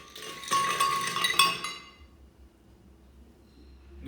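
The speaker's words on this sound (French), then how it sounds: "Et les glaçons." Ice cubes clink and rattle into a glass while a mango and strawberry frappe is made with milk, a bright cluster of clinks lasting about a second and a half, then fading to quiet.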